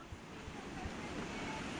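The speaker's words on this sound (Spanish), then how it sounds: "No sé si escuchan la fuerza de esa cascada." A roaring waterfall at a jungle base camp in the sierra, a dense, steady broadband rush of falling water, loud and unbroken, with a hint of wind buffeting.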